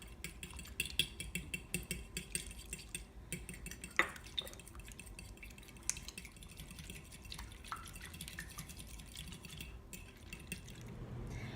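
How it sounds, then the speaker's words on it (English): An egg beaten with a little added water in a bowl for breading, with quiet, irregular clinks and taps of utensil on dish over a soft kitchen background, no talking. "You take 1 egg and you beat it while adding a little bit of water."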